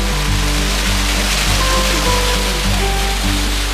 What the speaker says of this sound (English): there's a hole in the mountain. Water just shoots out and goes down.